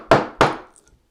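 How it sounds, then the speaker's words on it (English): A chisel chops across the grain of a wooden workpiece in two sharp, close thunks about a third of a second apart, each fading quickly. "I'm going to go ahead and chop that material out."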